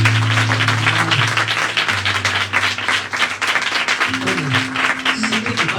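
A church congregation claps together. The loud, dense clapping runs throughout, with sustained instrumental tones underneath.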